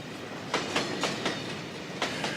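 A train runs in the War Thunder video game, with rhythmic clickety-clack wheel beats over a steady rolling rumble, about six evenly spaced clacks at moderate volume.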